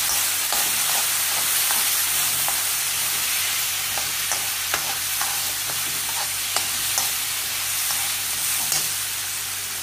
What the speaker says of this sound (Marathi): सगळ्याचा म्हणजे कच्चा आवाज जाईपर्यंत असं भाजत राहायचं